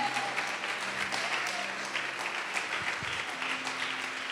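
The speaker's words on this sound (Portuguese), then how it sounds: "Pode aplaudir e glorificar a Deus." A church congregation applauds in a sustained burst of dense clapping that holds steady throughout, with faint voices mixed in beneath.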